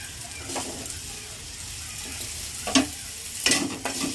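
Potato pieces fry and get stirred in a pan with dried red chilli and five-spice, a steady close sizzle broken by a few sharp scrapes and clinks of the spatula near the end.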